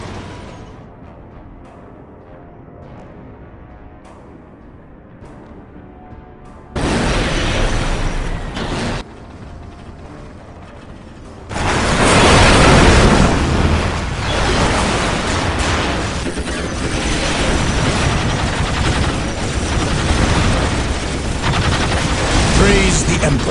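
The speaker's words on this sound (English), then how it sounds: "Taking heavy fire!" Heavy gunfire and explosions from a Space Marines versus Necrons battle in the video game Dawn of War: Soulstorm, starting low and then breaking into loud, dense bursts of shooting and blasts that continue to the end.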